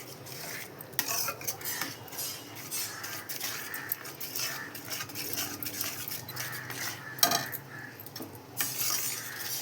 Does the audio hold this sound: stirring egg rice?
yes